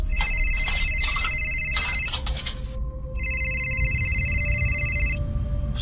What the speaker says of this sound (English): her phone suddenly started ringing.